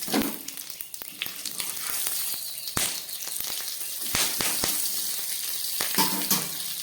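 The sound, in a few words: cumin, green chili and bay leaf sizzling in hot oil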